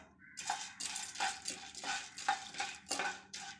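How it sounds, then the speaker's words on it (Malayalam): Spoon scraping and stirring chana dal in ghee in a pan with light frying crackle, a steady series of scrapes close by, no talking. "കടലപ്പരിപ്പ് ഒരു ബ്രൗൺ കളർ ആകുന്ന വരെ വറുത്തു വരാം"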